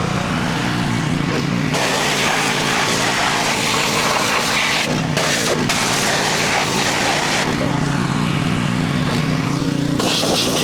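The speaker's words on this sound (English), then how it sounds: "I wanna wash this engine bay area" Water spray blasting the engine bay of a John Deere Z355E riding mower, a loud continuous hiss that shifts in tone as the jet moves, briefly cutting out and resuming.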